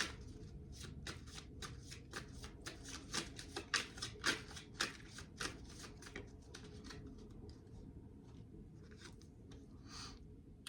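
Oracle cards are shuffled by hand in a quiet room during a reading, a soft, rapid flutter of riffling card stock that runs steadily and stays close and faint, with no voice over it.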